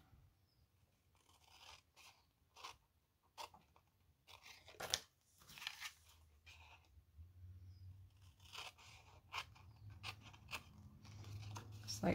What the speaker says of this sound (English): go ahead and cut one of those corners off